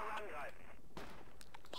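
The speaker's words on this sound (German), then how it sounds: "Da schießt er auch raus, ich sehe die Schüsse" Gunfire in a multiplayer Project Reality clan war game, sharp bursts of shots after a voice, with scattered distant cracks following against steady background noise.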